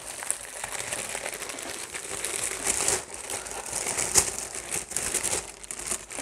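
Paper wrapping around a grey cover for a Riki mirror crinkles and rustles continuously up close as it is unwrapped, with no speech.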